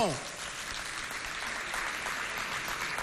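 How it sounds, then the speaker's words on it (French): A section of a studio audience on the FESTAFRICA talk show claps at a moderate, distant level, a continuous crackle of many hands holding steady for the whole stretch. "applaudissez très fort, l'aile gauche de l'émission"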